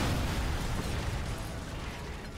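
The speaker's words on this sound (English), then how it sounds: "I hear a lot of explosions coming from the left side of the harbor." Explosions in the video game Sniper Elite 4 form a dense, rumbling roar that stays loud and heavy for the whole stretch, then fades slightly toward the end.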